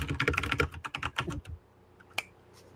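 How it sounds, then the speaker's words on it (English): Rapid typing on a computer keyboard, a dense flurry of close, crisp key clicks for about a second and a half, then near silence broken by one last sharp tap. "I've never heard typing that fast."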